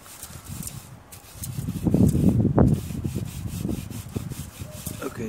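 A cleaning brush scrubs a dirty barbecue grill, giving close, rough rhythmic rasping strokes that grow louder in the middle and then ease off, with no one talking.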